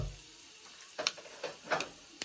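Cumin, mustard seeds, green chilli and urad dal fry on a slow flame in oil for tempering, producing faint sizzling with a few small crackles and pops close by.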